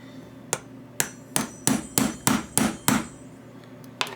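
A hammer strikes metal battery connectors about nine times, with sharp, loud, ringing blows in a fairly steady rhythm and a short pause before the last hit, close up and with no talking.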